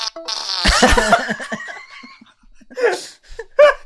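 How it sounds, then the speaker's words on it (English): A long, wet fart sound effect played from a phone opens loudly and trails off, followed by laughter and breathy chuckles nearby. "I can add a fart to a call if I want."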